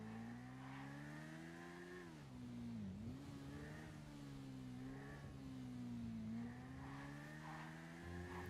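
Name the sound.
car engine revving in a video game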